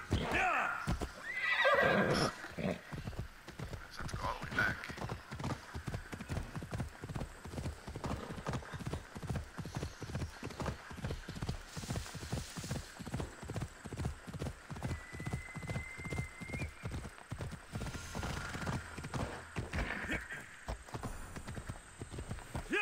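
Steady rapid clip-clop of horse hooves in Assassin's Creed Odyssey, a continuous rhythmic gallop with a brief whinny near the start and game ambience underneath.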